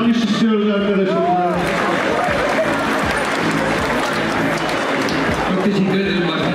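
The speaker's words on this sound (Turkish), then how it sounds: "Evet, bir alkış istiyoruz arkadaşlar." Audience clapping for the winner of a hot chili pepper eating contest, a dense steady wash of applause with crowd noise and talking mixed in throughout.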